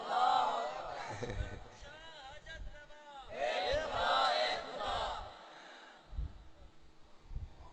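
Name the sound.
crowd chanting response to Nara-e-Takbeer call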